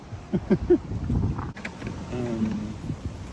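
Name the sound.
wind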